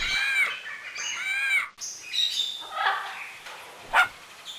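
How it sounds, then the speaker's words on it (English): Birds chirp and tweet brightly while a dog gives a few short barks in the 3DO game It's a Bird's Life, a busy cartoonish mix of calls heard close. "Digby, their dog, liked to chase them"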